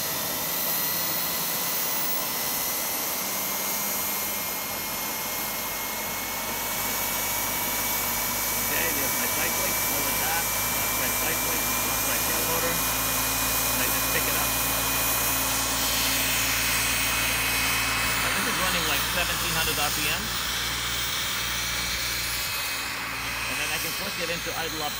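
Turbine-powered RC model helicopter spooling up from idle and lifting off, a loud continuous jet whine with rising tones and rotor noise, heard under someone talking.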